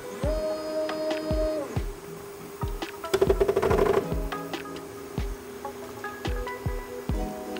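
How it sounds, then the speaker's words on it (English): A LulzBot Bio bioprinter levels its X gantry with stepper-motor tones that start, stop and change pitch, separated by mechanical clicks, plus a brief buzzing stretch in the middle. The sound is close and steady and has no talk over it. "now the machine is gonna level the X gantry"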